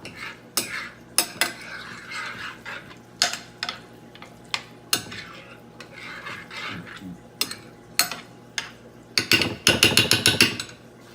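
A spoon stirs garlic powder into a thick corn dip, giving repeated scraping and clinking knocks against the bowl in irregular bursts, close and fairly loud, ending in a quick flurry of strokes.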